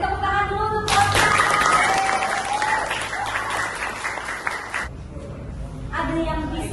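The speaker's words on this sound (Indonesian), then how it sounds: "Boleh tepuk tangan dulu untuk Bapak." A classroom group gives a teacher a burst of loud, dense applause that holds steady for several seconds before tapering off, with voices before and after.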